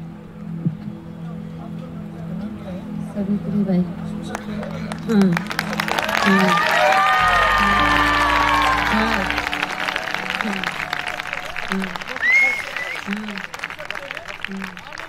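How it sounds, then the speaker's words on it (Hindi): A congregation applauds at an outdoor church festival gathering in Bhilai, a loud sustained wash of clapping rising and holding mid-clip, with someone talking over it and musical tones sounding briefly. "प्रभु के लिए ताली बजाना नहीं आता लोगों को।"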